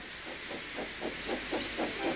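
A steam engine puffs in a steady rhythm, with about seven chuffs of hissing steam over a constant background hiss.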